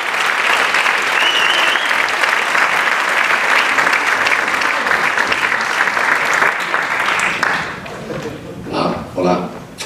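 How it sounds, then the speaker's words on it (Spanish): Loud, dense applause fills an award ceremony hall for a prize winner at the Bruja de Oro awards, sustained for about seven seconds before thinning out as voices and cheers break through near the end. "Un aplauso a la graciada."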